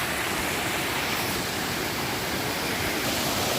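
A natural waterfall gives a constant, loud, broadband rush of flowing water with no pauses and no voices.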